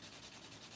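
A buffing square rubs back and forth over a fingernail in quick, soft strokes, a faint, close scratchy sound with no talking.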